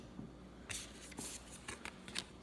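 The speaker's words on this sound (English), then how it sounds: "So let me shuffle that back in." A deck from the Disney Villainous board game is shuffled by hand, giving several quick, crisp riffling bursts close up in a quiet room.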